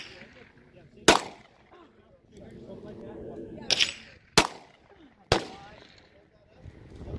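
Handgun target shooting outdoors: four loud, sharp single gunshots spaced irregularly a second or more apart, each with a short echoing tail, while people talk between shots.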